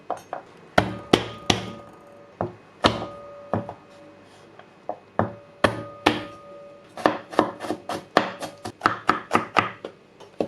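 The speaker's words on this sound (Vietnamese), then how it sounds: "Rồi mình để riêng, hành cũng sắc ra." A knife chops onions on a cutting board in sharp, close thunks, spaced unevenly at first and then in quicker bursts near the end, with no voices.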